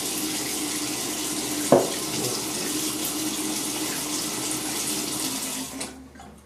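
A shaving brush gets a quick rinse under a running bathroom tap, a steady close rush of water with a brief knock near the start that fades out at the end, with no talking.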